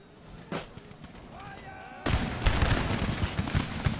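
Musket volley in the Empire Total War video game: after a quiet stretch with a faint shout-like tone, a massed line of muskets erupts at once into a dense, loud crackle of overlapping shots that keeps rolling on.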